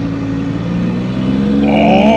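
A Honda S660 small mid-engine kei sports car, 150,000 km on it, accelerates in sport mode: a steady engine drone rises in pitch as revs build, heard close from inside the cabin with no talking.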